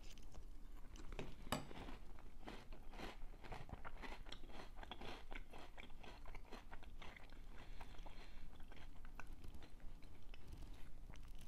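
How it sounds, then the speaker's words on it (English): Someone bites into and chews Little Debbie Swiss Rolls cereal close up, with dense, repeated crunching and a sharp crack near the start, steady throughout and without talk. "Let me get another bite."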